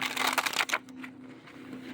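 Hexen 2.0 tarot cards riffle in a quick, close burst of crisp card shuffling lasting under a second, then fade to a faint, quiet rustle.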